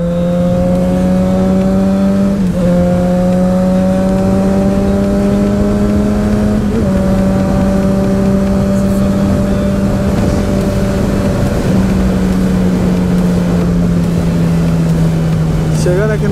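A Yamaha XJ6 motorcycle revving loud and close in a mall parking lot, its engine holding a steady buzzing drone with a few quick throttle blips, and a voice talking over it.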